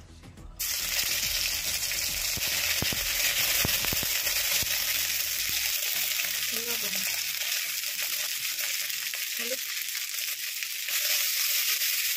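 Ghee with ginger, green chilli and cumin paste frying on a clay stove, a steady broadband sizzle that holds throughout at close range, with occasional clinks and stirring.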